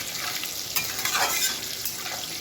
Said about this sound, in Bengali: সামান্য হলুদ গুঁড়ো নুন দিয়ে আমি আলুটাকে লাল লাল করে ভেজে নেব